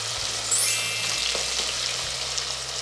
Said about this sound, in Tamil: இந்த வெங்காயத்தை நீங்கள் நல்லா வந்து ஒரு 2-3 நிமிஷம் நீங்கள் வதக்கி விடணும்